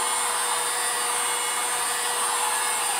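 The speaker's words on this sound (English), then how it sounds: "I'm going to hit this with the heat gun real quick." Heat gun blowing hot air across paint, a steady loud whooshing hiss from a fan with a faint tonal whine running throughout, close to the microphone.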